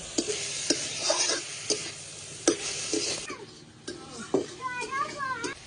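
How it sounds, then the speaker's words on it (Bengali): Prawns sizzle steadily in a hot pan while a utensil scrapes and stirs in sharp, irregular strokes; faint voices appear near the end. "চিংড়িটা দিয়ে বেশ ভালো করে একটু ভাজা ভাজা করে নেব"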